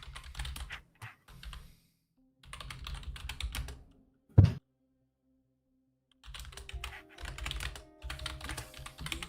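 Keyboard typing comes in several bursts of rapid clicking separated by pauses, with one sharper louder keystroke midway, close and clear with no voices over it.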